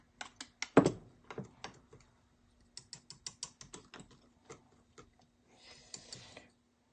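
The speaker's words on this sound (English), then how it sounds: "It's getting it all whisked in there." A whisk stirring chocolate peanut butter chia seed pudding in a bowl makes quick, irregular light clicks and taps, quiet and close, with no talking.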